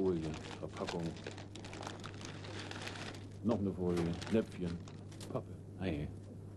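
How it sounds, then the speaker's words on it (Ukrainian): Foil and plastic sweet wrappers crinkle and rustle in short bursts while someone talks over them throughout. "Фольга, упаковка. Потім ще фольга."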